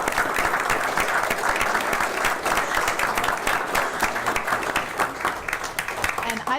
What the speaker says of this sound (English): So let's have a round of applause for them.